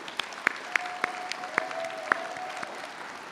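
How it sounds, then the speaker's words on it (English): A sparse scattering of handclaps, a few distinct claps spaced out, with a faint sustained tone running underneath. "if we could all give them a round of applause"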